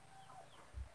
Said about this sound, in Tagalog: Doon yung labuyo.